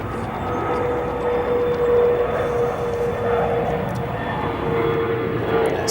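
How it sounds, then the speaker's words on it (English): A CRJ 700 regional jet departing O'Hare: a loud, steady engine roar with a constant whine riding on it, heard at close range and holding even throughout without anyone talking. "CRJ 700 departing."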